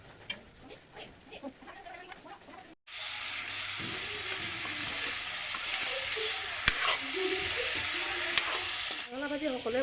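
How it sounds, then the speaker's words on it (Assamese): Pumpkin frying in a pan: a quiet opening with a few scattered sounds gives way to a sudden, sustained hissing sizzle, with occasional sharper spits and stirring noises, before a voice briefly comes in at the end. "আজি বতৰটো ভাল, গতিকে বোলো ৰঙালাওকে ভাজোঁ।"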